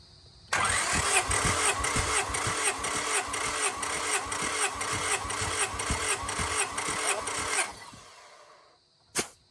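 A Honda Civic VTi's D16Z6 Crower all-motor build cranks with a strong, even, rhythmic chug for about seven seconds, then falls quiet, followed by a short thump.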